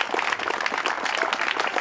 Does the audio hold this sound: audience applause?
yes